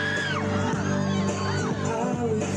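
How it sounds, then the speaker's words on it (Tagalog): A big crowd at a Kapamilya stars stage show screams and cheers as the performers come on, a loud, sustained wall of shrill voices and whoops. "isang malakas na hiyawan naman ang bumungad ng umarangkada na sa stage ang mga inaabangang Kapamilya Stars"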